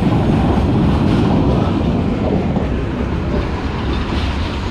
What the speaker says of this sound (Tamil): காஞ்சிபுரத்துலேருந்து இப்போது ட்ரெயின் ஸ்டார்ட் ஆகிடுச்சு